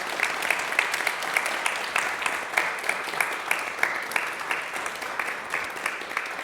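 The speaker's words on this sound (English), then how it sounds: "Please give them a big round of applause." An audience applauds guests at the close of a talk event, sustained steady clapping from a moderately sized crowd with no voices over it.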